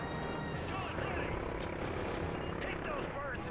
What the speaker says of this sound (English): Get these choppers off our ass, Warhammer